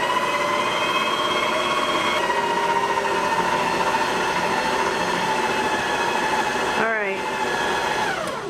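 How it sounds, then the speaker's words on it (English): A VIVOHOME 6-quart stand mixer working cookie dough on speed 1, its motor giving a steady high whine with a hum beneath, briefly dipping and rising in pitch as the load changes, close and loud. "I can hear that motor starting to strain a little bit as the dough was starting to come together"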